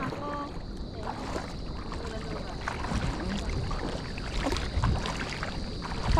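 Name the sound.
wind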